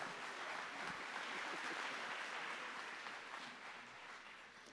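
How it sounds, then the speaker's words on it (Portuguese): A church congregation applauds during a Catholic homily, a sustained, fairly faint wash of many hands clapping that heard from a distance lasts throughout and fades slightly toward the end. "Vamos aplaudir o Lázaro dos nossos dias."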